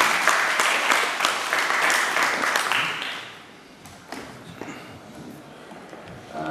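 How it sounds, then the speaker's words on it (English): An audience at a show applauds in dense, loud clapping for a few seconds, then it tapers off to scattered individual claps. "So maybe we can applaud them first, before I applaud them at the end of the show."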